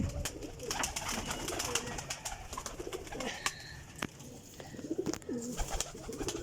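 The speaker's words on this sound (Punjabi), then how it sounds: "ਜਨਾਬ ਇਹ ਕਬੂਤਰ ਵੇਖਿਓ ਜੇ" Champion flying pigeons coo steadily in a loft-like setting, their soft calls blending with continuous rustling and broadband background noise throughout.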